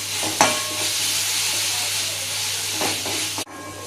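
Ginger-garlic paste fries in a pan for chicken gravy, a dense continuous sizzle with a couple of stirring scrapes, close and loud, cut off abruptly at the end.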